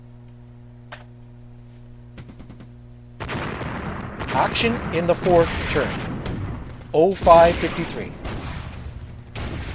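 A tank duel plays out in a turn-based video game, with a burst of booming gunfire and explosion effects after a quiet stretch of faint clicks, while a voice speaks over the battle.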